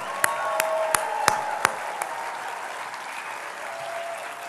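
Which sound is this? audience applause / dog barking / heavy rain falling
audience applause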